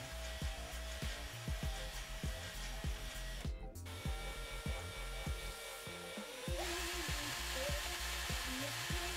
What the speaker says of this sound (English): drill out those rivets, one on the front and one on the rear with this model